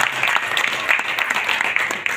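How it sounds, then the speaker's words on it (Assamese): An audience at an award presentation claps for a student receiving a prize, producing a dense, even round of applause that holds steady and fairly loud throughout. "সকলোকে এই হাত চাপৰি দিবলৈ অনুৰোধ জনাইছোঁ।"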